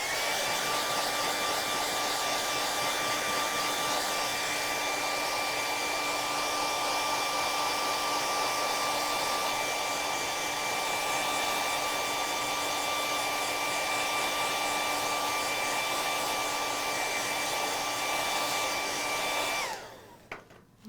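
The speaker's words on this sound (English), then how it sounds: "another hair dryer." A hair dryer blows paint dry at craft night, a steady whining roar held close and unbroken before it clicks off abruptly near the end.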